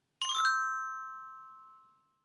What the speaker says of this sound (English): Turn the page when you hear the chimes ring